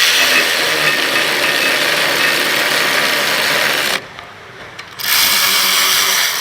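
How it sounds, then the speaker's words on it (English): Handheld electric ratchet working on the rear brakes of a Toyota Camry gives a steady, loud mechanical whir for about four seconds, stops briefly, then starts up again. "Take my little handy dandy electric ratchet."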